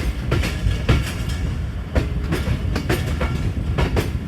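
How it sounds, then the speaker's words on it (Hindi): A Pakistani passenger train slows into a station platform on a heavy monsoon rain journey, giving a continuous rumbling rattle with repeated clickety-clack wheel beats, moderately loud and steady throughout. "हमारी ट्रेन अब रुकने लगी है जी प्लेटफॉर्म नंबर 4 के ऊपर"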